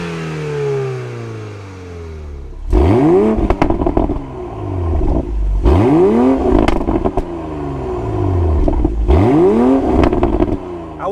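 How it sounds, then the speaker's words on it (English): A Toyota Supra 2.0 four-cylinder sports car engine revs hard three times, each rising rev followed by gear changes and exhaust crackle, loud and close with no talking. "an exhaust note that doesn't sound so good when compared to the 6-cylinder Supra."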